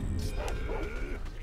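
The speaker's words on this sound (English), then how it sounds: "Dogs, you die first." Enemy dogs in the video game Sekiro: Shadows Die Twice, yipping and barking in a few short, excited bursts over the game's background noise, loud and close in the mix.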